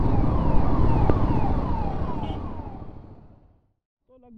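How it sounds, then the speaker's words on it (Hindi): An ambulance siren wails in repeated falling sweeps amid road traffic, loud and close at first and then fading away over several seconds, with a brief voice at the very end. "एम्बुलेंस आ रही है, पीछे जगह दे दो उन्हें"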